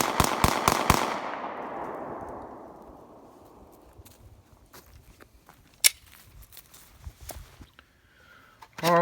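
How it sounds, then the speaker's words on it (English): Rapid mag dump from a Glock 43 subcompact pistol: a quick burst of about six loud, sharp gunshots in the first second, with echoing decay trailing off, then scattered faint knocks and clicks. "Alright, we'll do a mag dump for everybody"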